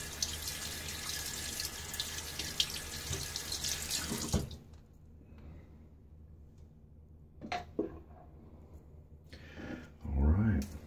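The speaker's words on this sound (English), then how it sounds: "I'm going to rinse out the threads on the tub container here." Tap water running loudly onto a shaving soap tub while its threads are rinsed, a steady splashing rush for about four seconds, then quiet handling sounds and a few small knocks and water touches.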